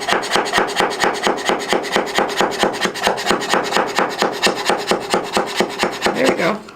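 A hand scraper rasps back and forth over a resin-coated wooden mason jar cutout in fast, even strokes. The scraping is close and loud, with roughly four strokes a second running steadily throughout.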